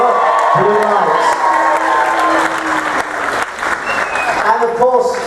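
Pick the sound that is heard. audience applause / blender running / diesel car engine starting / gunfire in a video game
audience applause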